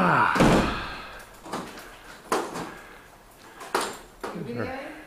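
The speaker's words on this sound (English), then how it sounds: "Okay, I'll open up the doors." Apartment doors in Rome open and close with several sharp thunks and knocks spaced a second or so apart, loudest at the start, with voices and shuffling around them.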